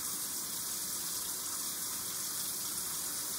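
Steady broadband rush of tap water running over a person's hands during handwashing at a sink, continuous and fairly close, with no talking.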